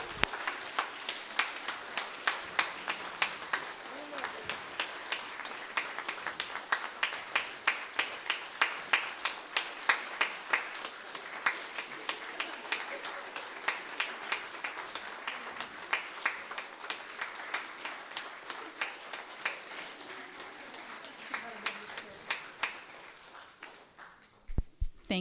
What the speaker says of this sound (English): give a rousing applause and thank you to these wonderful